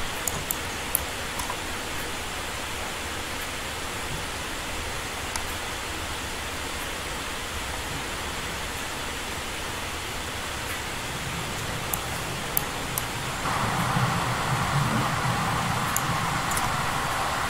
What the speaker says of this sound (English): Maybe it'll stop raining. No, probably not. Thunderstorms all day,